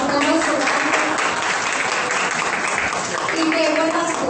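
An audience claps after a talk on ethics and hate speech, a steady, fairly loud patter of many hands lasting several seconds, with voices audible underneath.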